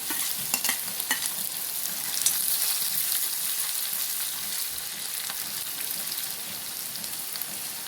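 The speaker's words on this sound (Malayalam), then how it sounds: "കടുക് നന്നായിട്ട് കൊത്തി വരുന്നുണ്ട് ഇതിലേക്ക് നമുക്ക് ചെറിയുന്നുണ്ട് ഇതിലേക്ക് വറ്റൽമുളക്" Mustard seeds and dried red chillies crackle and sizzle in hot oil, a dense, even spatter with small pops that continues throughout.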